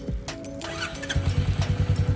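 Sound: Royal Enfield Meteor 350 motorcycle engine starting

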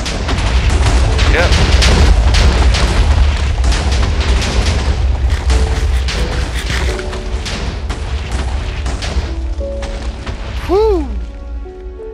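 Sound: chain of explosions blowing up rubble in video game Polycraft

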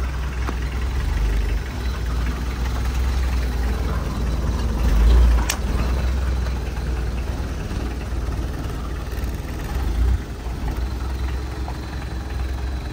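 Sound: Mitsubishi L300 1997 engine running

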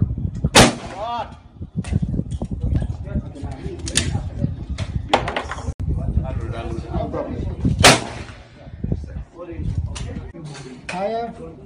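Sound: gunshots fired on a film set

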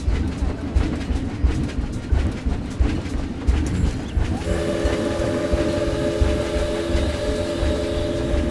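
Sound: train in the video game Planet Zoo

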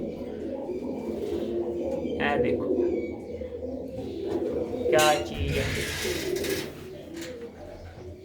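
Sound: pigeons cooing

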